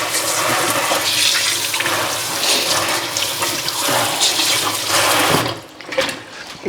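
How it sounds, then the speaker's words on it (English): Tap water runs steadily into a sink while hands are washed during homemade Mexican tortilla preparation, a continuous close splashing hiss that cuts off near the end. "I'm gonna wash my hands so I don't get all my fingers in the water jar."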